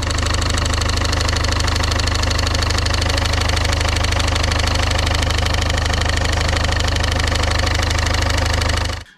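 Engine running under load with noise from a failing harmonic damper or poly V belt; a loud, steady mechanical drone with a faint knocking texture continues throughout, then cuts off abruptly at the end.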